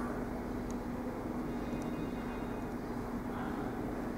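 A Kamoer UIP laboratory peristaltic pump runs with a constant low motor hum and steady whirring drone, unbroken throughout, plus a few faint high clicks.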